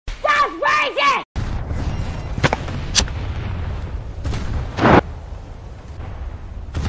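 Tank in the War Thunder video game firing grenades: a few sharp, loud bursts and booms, spaced over a steady rumbling engine drone, with a voice talking briefly at the start.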